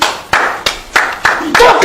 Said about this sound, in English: Don't clap for me.